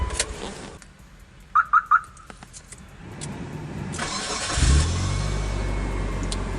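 A Mitsubishi Lancer with an SP-402 remote start and alarm chirps three times, then after a pause the starter cranks and the engine catches into a steady close idle.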